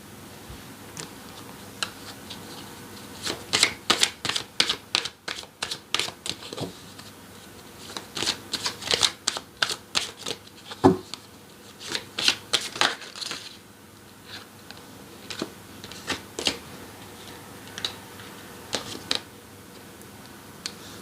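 Tarot cards are shuffled close by in repeated bursts of crisp, rapid flicking and riffling clicks, with short pauses between rounds over a quiet background.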